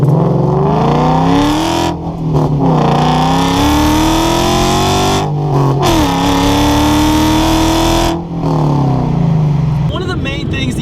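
A Ford Coyote 5.0 V8 swapped into a 2001 Mustang GT roars and revs repeatedly, climbing in pitch through the gears with brief drops between shifts, loud and close.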